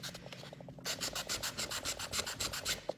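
Soft, rapid back-and-forth rasping of sandpaper on wooden book stack stamps, a close, quiet rhythmic scrubbing that starts lightly and then quickens into steady strokes.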